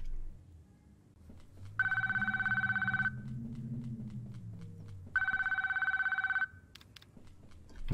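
Two bursts of an electronic telephone ring from the pixel horror video game Dead Dreams, each lasting over a second, loud and clear over a low hum, with faint footsteps between them.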